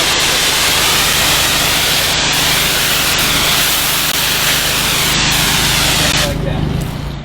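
A pressure washer sprays a residential screen enclosure to strip dirt and mildew, a loud, steady broadband hiss that runs unbroken for several seconds and thins out near the end.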